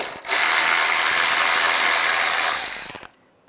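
A T20 Torx screw being backed out of a bracket on a 1999-2005 Volkswagen Jetta during radiator replacement, a close, loud run of fast ratchet clicks lasting about three seconds, then stopping abruptly.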